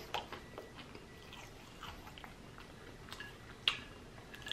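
Faint, close chewing and biting of Arby's fries during a fast-food eating session, with scattered soft crunches and a sharper bite near the end and no talking.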